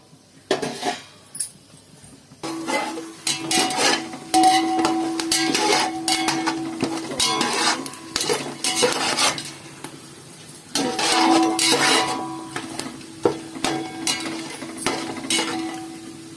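Biryani spices frying in sunflower oil in a pan, stirred with a metal spoon: repeated scraping clinks and knocks against the pan over a low sizzle, in uneven bursts, close and with no talking.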